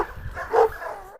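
Cane Corso and Karabash dogs barking together in a sudden scuffle, one short loud bark-like yelp burst in the middle of a brief, close clip.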